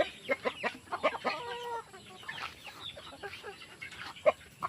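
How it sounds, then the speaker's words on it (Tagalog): Free-range native chickens cluck and call repeatedly on a small farm, a mix of near and farther birds with short rhythmic clucks and one drawn-out call, no talking. "Sa aming mga free range na chicken. Na mga native chicken mga boss."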